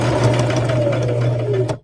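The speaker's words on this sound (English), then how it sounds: "I'm just going to sew across the bottom." A sewing machine stitching across the bottom of a rag quilt, a rapid, steady mechanical whirring run that lasts under two seconds and cuts off at the end, loud and close with no talking.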